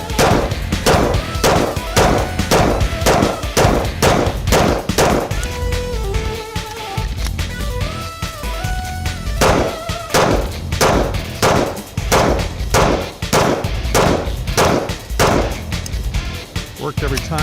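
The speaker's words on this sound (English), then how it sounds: "We're going to shoot it a bit" A Hi-Point 9mm pistol fires on an outdoor range in loud, booming shots at a steady, rapid pace through a long string, briefly easing mid-way before resuming.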